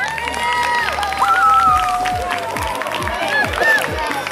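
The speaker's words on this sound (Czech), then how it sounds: "zatleskejte si za to" Outdoor crowd at a Christmas balloon release in Koloveč, clapping steadily at moderate loudness while music and voices carry on over the top and a low rhythmic beat thumps underneath.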